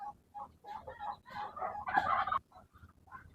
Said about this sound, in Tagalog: Kasi yung una kong pinipair na IG at saka Tanaka, ito po yung inahin.